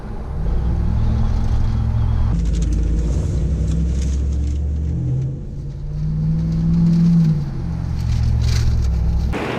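The V8 exhaust of a 1952 International H truck rumbles loudly nearby, idling deep and then swelling into two throaty revs that fall back, with no talking over it.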